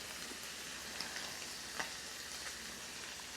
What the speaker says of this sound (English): Cut down some of that sizzling sound.